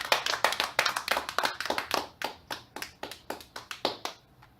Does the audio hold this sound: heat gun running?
no